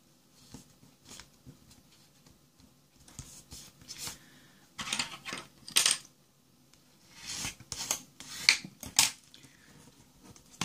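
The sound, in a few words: paper card being folded along second crease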